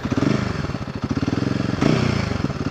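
A new 2024 Royal Enfield Himalayan 452 idles close by, its engine and exhaust giving a loud, steady pulsing thrum with a brief rise in revs partway through.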